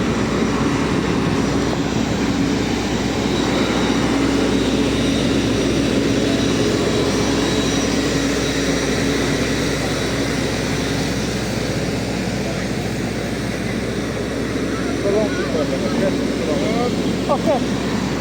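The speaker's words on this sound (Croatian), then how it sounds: "Evo ga naš avion." An airliner at Dublin airport during boarding, heard as a steady loud engine drone and whine over a constant low rumble, with people talking faintly nearby.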